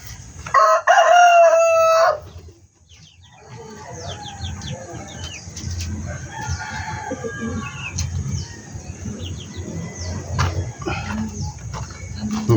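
A rooster crows loudly up close, then chickens cluck and chatter steadily in the background alongside other bird calls.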